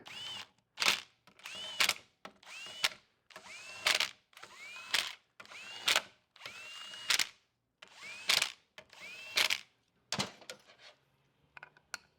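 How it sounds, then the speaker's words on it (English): Power driver tightening bolts on an AODE transmission valve body during a TransGo HD2 shift kit install: about ten short, loud whirring bursts in a steady rhythm, each separated by a brief pause, with no talking. "I'm going to put them on now. I'm going to torque them"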